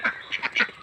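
Geese kept with ducks on a farm give a few short, nasal honking calls in quick succession, close and fairly loud, with no talking.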